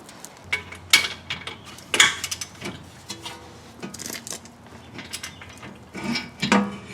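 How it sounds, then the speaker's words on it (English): Ratchet tightening down the CV axle nut on a 2011 Toyota Sienna during passenger axle replacement, with clicking metallic strokes and clanks in irregular bursts, close and moderately loud. "Now I'll put the nut on there. We'll torque that down."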